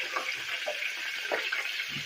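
Water running steadily from a kitchen tap beside a cooking setup, a close continuous rushing stream with no speech over it.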